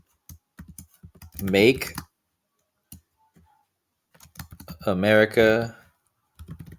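Typing on a computer keyboard: sparse, light key clicks come in short runs between and beneath a man's nearby speech.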